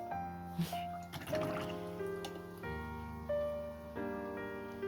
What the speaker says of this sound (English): Let's put a little bit of water, a little bit more water in here